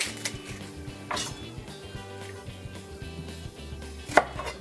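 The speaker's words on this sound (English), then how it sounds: "So with onions, everyone, I just cut this on a big chunk." Knife cutting onion into big chunks on a board for a seafood boil, a few firm irregular chops close up over steady low background hum, one sharper knock near the end.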